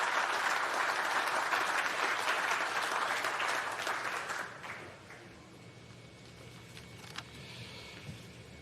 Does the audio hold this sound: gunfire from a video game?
no